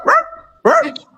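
Dog barking, two loud, close barks separated by a short gap, each with a slightly whiny, yelping tone.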